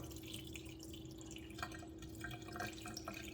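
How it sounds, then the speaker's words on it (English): Water poured directly onto a PSA graded plastic card slab gives a faint, steady trickle and light splashing over a constant low hum. "This time I'm going to be pouring the water directly on top of the card."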